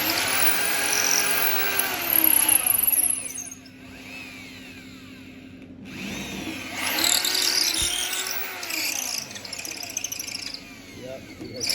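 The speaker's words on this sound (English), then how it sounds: "Keep extracting the drill bit so that it will not get caught in the horn." A power drill bores through a shofar horn, its motor whining and grinding in long loud stretches, easing off and starting again as the bit is pulled out and pushed back in.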